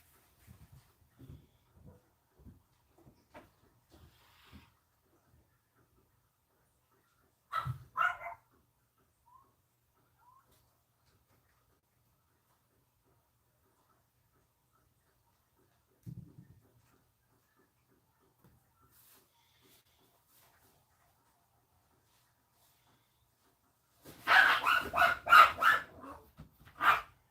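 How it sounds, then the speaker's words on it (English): Dogs bark indoors in scattered bursts: soft yips early on, a couple of brief barks in the middle, then a louder flurry of barking near the end, with quiet gaps between. "Again, I apologize about the barking dogs."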